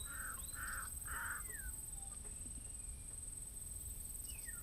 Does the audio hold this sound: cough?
no